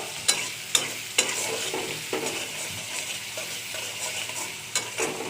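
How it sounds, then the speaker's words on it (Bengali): Hilsa fish frying in oil with onion and chili gives a steady close sizzle, broken by sharp spatula scrapes and clacks against the pan at a roughly regular beat. No one speaks. "পেঁয়াজ আর মরিচ দিয়ে দিয়েছেন ভালো করে ভেজে নিচ্ছি ইলিশ মাছগুলোকে ভুনা করে ফেলবো"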